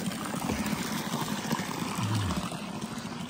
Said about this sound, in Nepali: पानी तिर्खाएर फेरि खान थालेछ हौ बोस